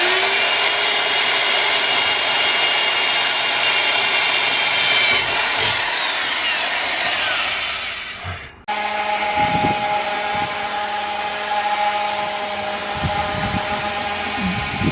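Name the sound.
power drill drilling into metal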